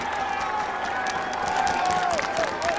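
Crowd applause and cheering in parc fermé for the MotoGP race winner at the 2017 German Grand Prix, a continuous roar of clapping with a commentator talking over it.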